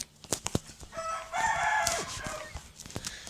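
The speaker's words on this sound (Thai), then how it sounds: "ทำไมไก่ร้องจังเลย" A rooster crows once in the Blitz Brigade shooter game, a drawn-out call rising and falling in the middle, framed by sharp clicks and thuds of game action before and after.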